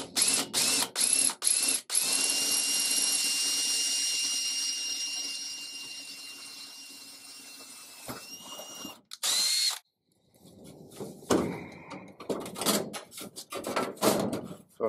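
A power drill whirs steadily for several seconds through a drill guide, its pitch sagging under load as it bores through the top material of a panel, then stops, followed by clicks and handling noises.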